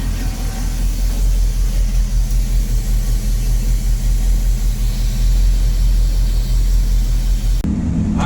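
A pickup truck's engine idles steadily while warming up before a drive to the muffler shop, a close, continuous low rumble that holds even throughout and then shifts abruptly near the end.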